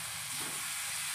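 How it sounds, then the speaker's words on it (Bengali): Ground spice paste being stirred in a hot frying pan, giving a steady, moderately quiet broadband sizzle and hiss with no voices. "নাড়িয়ে নিচ্ছে।"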